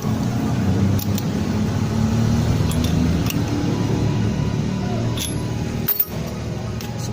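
A Honda 90 motorcycle engine, just fitted with a spark plug in a repaired plug thread, runs with a steady low drone throughout, with light metallic clinks over the top and a brief dip near the end.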